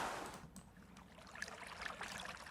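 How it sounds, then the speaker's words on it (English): Lakeside water ambient effect from a VST plugin, gentle lapping and trickling with small splashes, quiet and continuous with no talk. "And then water by a lake."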